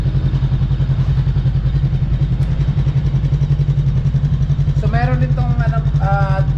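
A VOGE 500R motorcycle engine idling nearby with a steady, low, throbbing pulse throughout, and a voice speaking briefly near the end.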